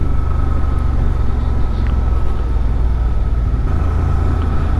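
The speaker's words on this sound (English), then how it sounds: "Third gear, 30 miles an hour, very quietly trundling through, not bothering anybody." A 2023 Honda Transalp XL750 motorcycle rolls slowly in third gear at 30 mph through a village, giving a smooth, steady low engine drone with a wind-buffeted rumble that carries on unbroken.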